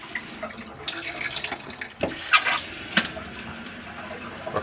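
Tap water runs into the sink of an R-Pod camper trailer, a soft, uneven splashing stream with small clinks and knocks, fairly close and without speech.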